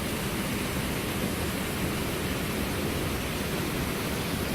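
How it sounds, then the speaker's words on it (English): A waterfall on a river where bears fish gives off a steady, full roar of rushing water that stays even and unbroken throughout, with no voices over it. "From 128 to send her down over the waterfall"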